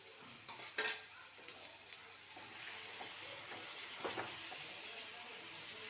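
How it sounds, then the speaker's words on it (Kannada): Tomatoes fry in a little oil for spinach (palak) chutney with a steady, soft, close sizzle and hiss, while a spoon stirs with a few light scrapes and taps. "ಈ ಟೊಮೆಟೊ ಹಣ್ಣನ್ನು ಸ್ವಲ್ಪ ಎಣ್ಣೆ ಹಾಕಿ ಹುರ್ಕೋಬೇಕು"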